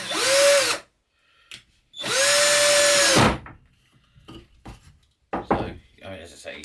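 A cordless Mailtank Speed power drill whirs in two loud bursts, each spinning up and winding down, followed by scattered clicks and handling noises up close.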